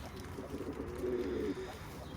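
A smoky-blue domestic flying pigeon with clipped wings gives a low, rolling coo that swells and fades over a couple of seconds, near and fairly quiet, with no voices.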